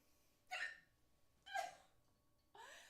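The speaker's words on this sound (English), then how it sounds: "I have never heard my hiccups before." Three sharp hiccups from a person during a livestream, spaced about a second apart, each a brief close gulping catch against a quiet background.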